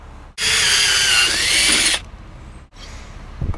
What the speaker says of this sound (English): punch them and drill them